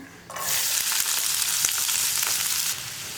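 Green chilies, ginger, garlic and onion hit hot oil in a pan, bursting into a loud, steady sizzle from about a third of a second that holds evenly before easing slightly near the end, with no voices.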